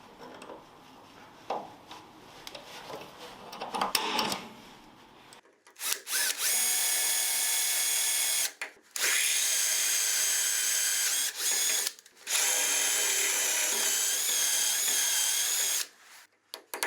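A power drill works at a damaged screw hole on a Mazda RX-7 FD3S during restoration, first a few quiet handling noises, then loud sustained whining bursts broken by brief pauses, close to the listener.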